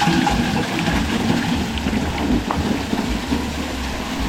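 Water gushes steadily from a Pedrollo 1HP solar-powered water pump, a dense, continuous rushing noise like heavy rain, fairly loud and unbroken throughout.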